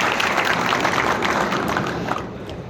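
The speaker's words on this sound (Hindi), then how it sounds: "तालियों के साथ हम उनका सम्मान करें।" An audience applauds at an inauguration ceremony for a 220/132 kV power grid substation, giving dense, steady clapping that fills the whole moment and fades slightly near the end.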